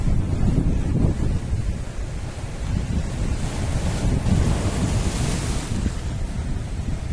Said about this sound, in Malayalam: എന്താ കാറ്റ്, നല്ല കാറ്റ് ഇവിടെ.